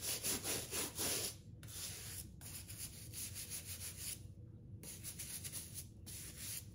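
Hiking boots are scrubbed with a brush and foaming cleaner, producing close, rhythmic bristly rubbing strokes in quick back-and-forth bursts with brief pauses, quiet overall and free of speech.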